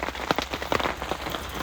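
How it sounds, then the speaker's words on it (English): Hail pelting a tent during a storm, a dense irregular patter of sharp ticks and taps on the fabric, close and continuous. "It's hailing out there"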